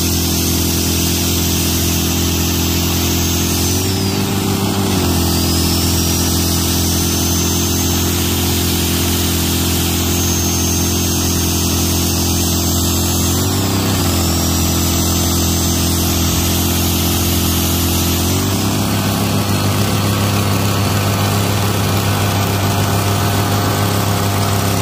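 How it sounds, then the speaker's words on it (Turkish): A small engine driving a homemade alternator generator runs steadily with a droning hum, its pitch dipping briefly a few times as the load shifts, loud and close with no talking. "Gördüğünüz gibi jeneratörümüz çalışıyor."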